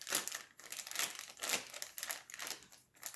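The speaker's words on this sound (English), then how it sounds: "And then you fold back your bag." Plastic piping bag folded back by hand, a close series of crinkly rustles and crackles in uneven bursts, fairly soft and alone.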